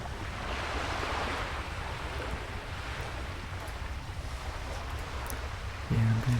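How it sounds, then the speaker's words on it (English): Steady lapping water ambience in World of Warcraft Classic, a loud, continuous wash of surf-like noise filling the scene, with a brief low thump near the end. "Sound of lapping water. It's quite loud actually."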